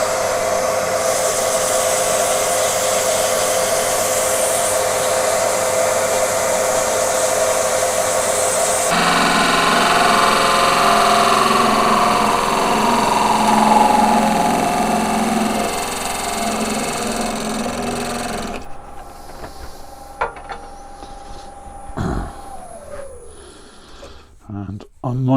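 A wood vase is sanded on a spinning lathe, giving a continuous whirring hum with an abrasive hiss that shifts in tone partway through, then winds down into quieter clinks and handling sounds near the end.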